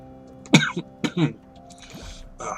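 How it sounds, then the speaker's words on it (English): Two close, harsh coughs in quick succession, followed by faint background noises and a quieter throat sound at the end. "I have this lingering cough that is just, as you guys can hear, just driving me nuts."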